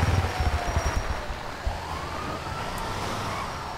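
Police car sirens in GTA 5 Online, distant wailing sweeps rising and falling under heavy low engine rumble and thumps from nearby driving.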